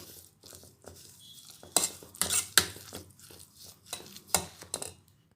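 A spoon stirs turmeric into a thick red chili pickle, scraping and clinking against the pot in a handful of uneven bursts, close and fairly quiet, with no talking.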